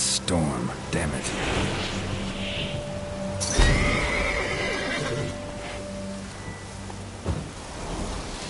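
Horse neighing in The Witcher 3 during a storm, a clear whinny near the start, followed by steady rain and a low rumble of thunder, with a voice speaking over part of it.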